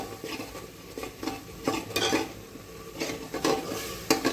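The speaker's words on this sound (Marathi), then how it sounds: "हळद, गरम मसाला थोडासा अर्धा चमचा मिक्स केलं." A spoon stirs spinach with turmeric and garam masala in a frying pan, giving irregular scraping clinks against the metal over a soft sizzle, close and fairly loud, with no voices.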